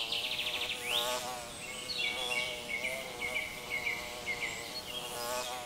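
Bees buzzing up close around spring blooms, a wavering droning hum that rises and falls as they move about, with faint chirps in the background.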